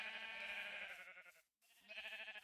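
Sheep in a sheep farm video game bleat loudly and close, one long wavering call that breaks off briefly before a second bleat starts, with no talk over it.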